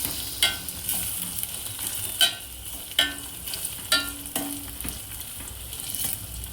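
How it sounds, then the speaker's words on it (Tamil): Crushed ginger and garlic sautéing in a pan for country chicken soup, a continuous close sizzle punctuated by about half a dozen sharp metallic scrapes and clicks of a spoon stirring against the vessel. "இஞ்சி பூண்டு சேர்த்துக்குங்க அதுவும் நல்லா கொஞ்சம் வதங்கட்டும்"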